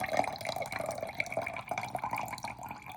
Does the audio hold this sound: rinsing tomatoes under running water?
yes